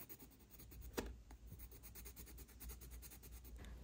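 A Blackwing pencil writing on paper, a faint, steady scratching with one brief louder stroke, quiet and close with a low background hum.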